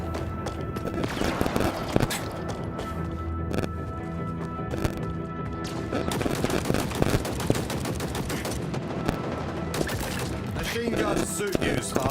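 Sustained automatic weapon fire from a Halo match, dense rapid bursts layered with other game sounds and music, loud and continuous with no breaks, no voices over it.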